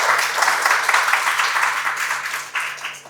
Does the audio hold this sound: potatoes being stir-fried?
no